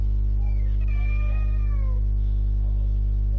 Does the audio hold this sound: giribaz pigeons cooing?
no